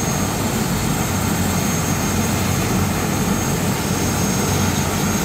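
Steady loud whine and roar of a PNP police helicopter's engine and rotor idling before takeoff at Camp Crame, constant and close, with no talk over it.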